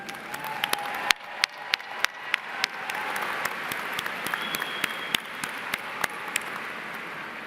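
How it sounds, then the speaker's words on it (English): A large audience at the University of South Florida spring 2025 commencement gives a sustained round of applause for families, with a crowded wash of clapping and sharp individual claps standing out nearby. "Help me give them a big round of applause because they helped get you here."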